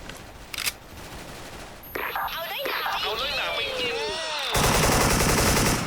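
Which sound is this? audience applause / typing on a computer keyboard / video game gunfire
video game gunfire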